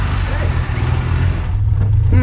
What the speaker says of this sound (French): ce petit claquement un peu synonyme de Volkswagen Cox